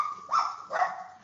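Two close, sharp barks from a pet dog at home, each a short rising yip, heard alone with no talk.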